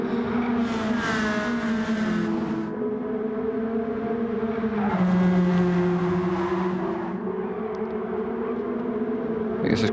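Nissan Silvia S15 race cars in Gran Turismo 7 droning loudly, engine pitch rising and shifting as they accelerate, with a pass or gear change midway.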